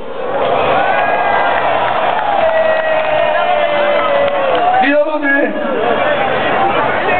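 A large outdoor festival crowd at Przystanek Woodstock 2009 cheers and shouts continuously, a loud, dense roar of voices with whoops rising around the middle and not letting up.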